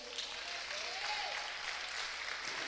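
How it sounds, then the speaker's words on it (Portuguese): A church congregation applauding during a sermon, a soft, distant, continuous patter of many hands clapping without a break. "Aplaude ao Senhor."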